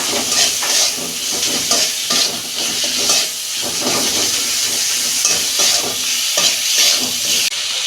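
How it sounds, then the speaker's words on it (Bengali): Masala with salt for a homestyle Bengali fish curry is stir-fried in a pan, a loud continuous sizzle broken by rhythmic scraping and stirring strokes of a spatula, close and busy throughout. "নুন দিচ্ছি পরিমাণ মতো ভালো করে মশলাটাকে কষাবো"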